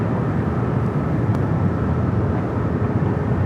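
A jet airliner at Los Angeles LAX airport produces a steady, loud broadband roar that holds evenly for the whole stretch, with no voices present.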